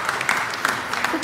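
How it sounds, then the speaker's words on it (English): Church congregation applause at a Sunday morning service, a short burst of clapping in a hall with a voice overlapping. "can we give them a round of applause"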